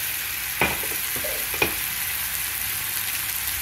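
Green chillies and vegetable pieces frying in hot oil, a steady close sizzle with a couple of sharper spits and pops, no talking.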